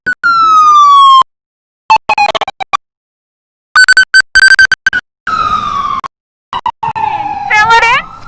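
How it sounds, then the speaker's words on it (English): A loud, nearby ambulance siren in St. Paul wails in choppy bursts that sweep up and down, cutting in and out with short silent gaps between them. "Let that ambulance through."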